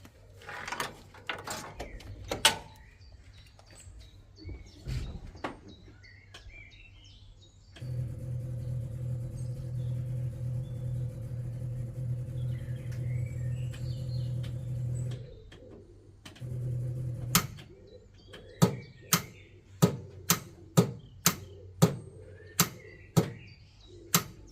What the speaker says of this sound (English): As you can hear, the fuel pump actually turned on this time, which is really good news.